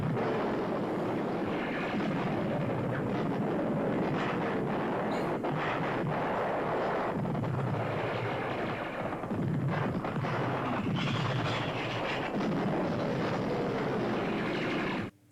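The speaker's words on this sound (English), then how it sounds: "Oh, they're firing at their own guys." Artillery fire from the 1957 war film Paths of Glory, a continuous heavy barrage of booming blasts and rumble with whistling shells, dense and loud throughout without talk.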